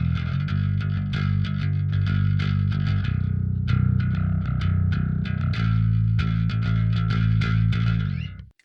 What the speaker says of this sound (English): For the bass tone, I'm using an instance of Neural Dark Glass